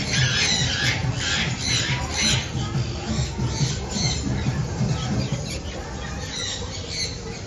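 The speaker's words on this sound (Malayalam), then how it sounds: "അത് സൗത്ത് അമേരിക്ക സാൻസി കോഞ്ഞൂർ എന്ന ഇനത്തിൽപ്പെട്ട തത്തകളാണത്." Sun conure parrots at an exhibition squawk in a steady chorus of harsh, overlapping calls amid shuffling, with voices of people nearby underneath.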